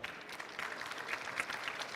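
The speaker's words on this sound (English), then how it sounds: "Let's give them a big round of applause for them." Seminar audience at a global forum on sustainable resilience applauds steadily, a dense, even wash of many hands clapping, faint and somewhat distant, with no voices over it.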